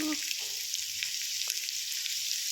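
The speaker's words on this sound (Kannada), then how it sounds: "ಈರುಳ್ಳಿನ ಫ್ರೈ ಮಾಡ್ಕೊಂಡಾದಮೇಲೆ" Onions frying in a pan for a cool summer curd-rice dish, giving a steady bright sizzle throughout with a few faint stirring clicks. No talking.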